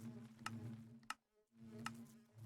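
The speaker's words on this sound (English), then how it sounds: "Let's just put one of these Patrick bees." A Patrick bee from the ATM 8 Minecraft modpack buzzing, a quiet low hum broken by a few sharp clicks and a short gap of silence.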